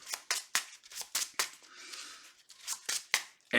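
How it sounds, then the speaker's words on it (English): A deck of playing cards is shuffled up close in a series of quick, crisp riffling bursts, about a dozen sharp flurries with a short steadier riffle in the middle. "And then I'm going to shuffle my deck."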